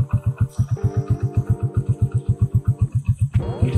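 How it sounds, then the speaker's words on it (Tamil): Up close, a Hero Splendor Plus motorcycle engine idles at low speed with an even, steady chug of exhaust beats and no other noise. "வண்டி ஸ்லோ ஸ்பீடு ஓடுது."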